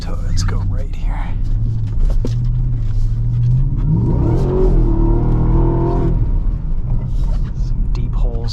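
2023 Ford F-150 Raptor R V8 driving in snow, a deep rumbling engine that swells into a strong rev with rising pitch midway, then settles back, with a person talking quietly over it.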